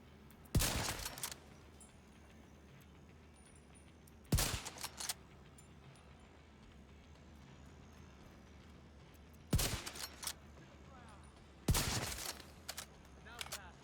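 Four separate bursts of gunfire ring out in a video game shootout, each a sharp cluster of shots spaced several seconds apart over a quiet background.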